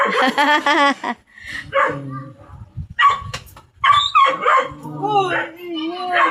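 A small dog barks and yips several times in short bursts, close by, mixed with people talking and a brief whine.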